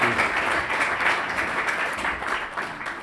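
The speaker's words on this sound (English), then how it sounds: "Give them a round of applause, please." Audience applause after a short presentation on acting and presence, a dense, steady wash of many hands clapping for about three seconds, fairly close and even in level with no break.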